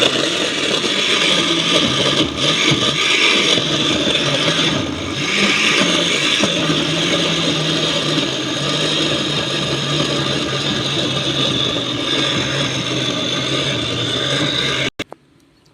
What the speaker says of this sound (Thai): เราก็จะใส่น้ำปั่นกันนะคะ